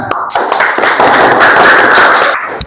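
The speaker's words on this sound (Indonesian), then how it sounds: "tepuk tangan" A class of students clapping their hands during a teacher performance assessment lesson, a loud, dense burst of clapping that runs steadily for about two seconds and then fades out.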